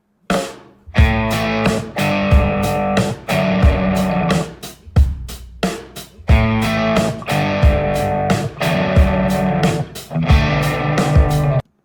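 An excerpt of a song, played loud as a full band mix with punchy rhythmic stops and gaps between driving sections.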